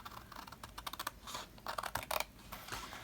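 Paper snips cut through paper, corner to corner, in a quick run of crisp, close snipping clicks with a slight rustle, fairly faint and uneven in rhythm.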